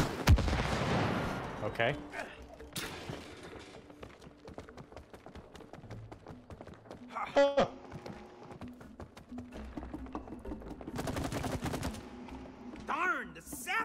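Shooting in the video game It Takes Two, with scattered gunfire bursts and zapping effects over game music and sounds, as a player talks briefly during the action.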